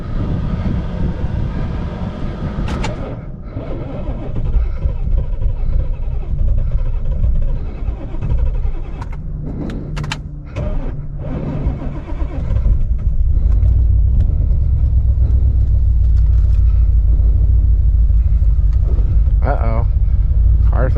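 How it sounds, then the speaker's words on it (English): A car on a wide-open-throttle pull strains with a loud, rough engine roar broken by stumbles and dropouts, then settles into a heavy low rumble, with a voice speaking over it. "Car's not happy."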